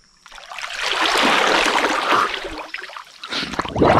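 Water splashes and trickles as someone rinses off in a river, a close, continuous rush and gurgle that swells and dips, with a louder splash near the end.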